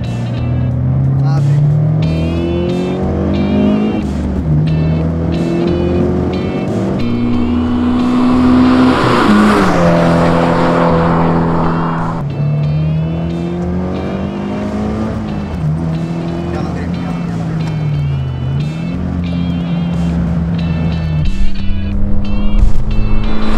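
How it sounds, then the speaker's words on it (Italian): Toyota GT86 on track, its engine climbing quickly through the revs toward 7000 rpm in repeated pulls with gear changes and tire noise, loud and close, with someone talking over it. "Arriva a 7000 giri che è niente, salita veramente in fretta i giri"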